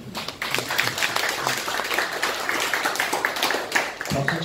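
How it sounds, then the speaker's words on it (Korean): A crowd applauds steadily, dense clapping filling the room at moderate loudness for a few seconds. "이쯤에서 박수 한번"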